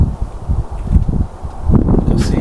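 Outdoor wind buffets the microphone in uneven low rumbling gusts that swell louder toward the end, with a faint rustle mixed in.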